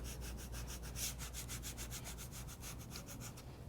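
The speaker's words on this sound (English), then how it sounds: "using your scraper tool, press the transfer tape over your decals" A scraper tool pressed firmly over transfer tape on vinyl decals, a steady close rubbing scrape repeated in quick even strokes without a break.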